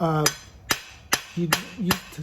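Sharp metallic hammer blows on a steel bar over an anvil while hammer-polishing the octagon sides in a coal-forge blacksmith shop: five distinct ringing strikes spaced about half a second apart, close and loud, with brief ringing tones between.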